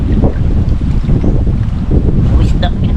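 Strong wind buffets the microphone in a steady low roar, with water and a faint voice mixed in near the end.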